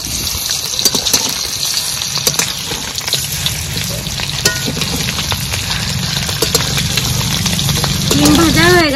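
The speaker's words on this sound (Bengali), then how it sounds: "ডিম ভেজে নেওয়ার জন্য কড়াইয়ে তেল দিয়ে দেব।" Eggs fry in hot oil in a wok, a loud continuous crackling sizzle with sharp pops throughout and a faint tonal sound toward the end.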